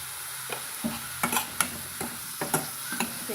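Mushrooms cut into large pieces being stirred with turmeric powder in a pan, a series of close, distinct scraping and clinking strokes at an irregular rhythm over a faint background hiss, with no talking.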